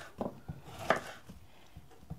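A knife chops a cauliflower-like green vegetable on a board, several soft, muffled cuts at an irregular pace, close but fairly quiet, with one sharper knock in the middle.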